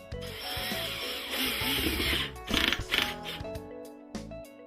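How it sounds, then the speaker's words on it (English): A power driver sets screws through a wooden shelf clamped inside a box or cabinet, with short whirring, grinding bursts near the end over a bed of background music. "Then drive the screws."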